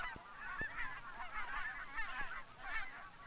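A flock of geese honks repeatedly, overlapping calls close and loud, with a few sharp knocks in between.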